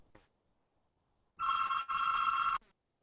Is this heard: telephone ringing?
yes